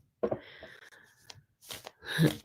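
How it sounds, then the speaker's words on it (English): A deck of reading cards is shuffled, with several bursts of riffling and sliding card sounds at close range, separated by short pauses. "I want to just shuffle the cards a little bit"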